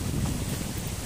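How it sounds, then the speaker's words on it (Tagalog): Steady, rumbling wind buffets close to the microphone, a continuous low roar with no other sounds standing out. "Kahit mainit ang katanghalian tapat, pero mahangin dito."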